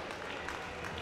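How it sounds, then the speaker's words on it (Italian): Faint, distant applause from spectators after a basketball game, a brief even patter of clapping at low level. "Applausi comunque per le due squadre."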